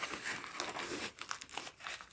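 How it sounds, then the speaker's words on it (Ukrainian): Parcel packaging crinkles and crackles as it is unwrapped and the tape is cut away to free a book, a close, faint series of rustling and tearing sounds in uneven bursts. "Відкриваємо, скоріше залишається тут підрізати скотч."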